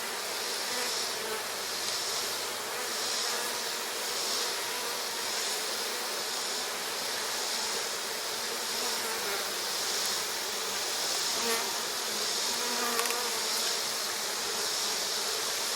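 A large mass of honey bees buzzes inside an open hive body. The drone is steady, close and continuous, with no talking.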